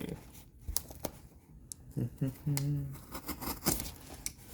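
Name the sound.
cutting open a heavily taped cardboard box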